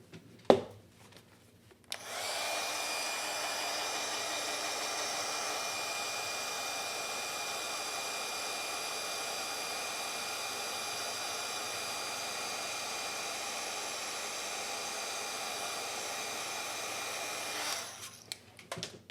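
A handheld heat tool blows a steady, loud whirring hiss for about fifteen seconds while melting embossing powder on a holiday craft piece, starting and stopping abruptly with faint handling clicks at either end.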